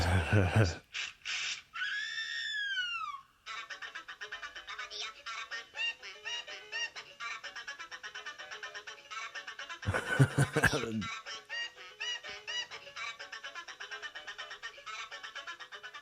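A cartoon Aracuan bird from the 1944 animated film The Three Caballeros gives an odd call of rising and falling whoops and rapid chattering notes, repeated in bursts for several seconds.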